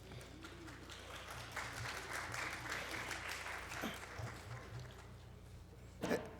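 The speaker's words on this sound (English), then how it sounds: "Everybody's applauding at the last picture, right?" Faint applause from a council meeting audience, a soft, distant patter of clapping over low room hum, with a brief louder knock near the end.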